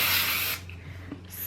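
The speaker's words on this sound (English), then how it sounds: "spray it with the hold, let it dry for a little bit" Hairspray with hold sprayed onto back-combed, teased big hair, one loud steady hiss for about half a second, then quiet with faint rustling and a short second hiss at the end.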